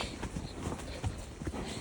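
A horse walking on a steep track, hooves clip-clopping in a steady loose rhythm close by, with soft background rustle and no talk.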